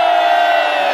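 A large crowd at an autumn sports day event shouts and cheers together on cue, a loud sustained roar of many voices filling the whole moment.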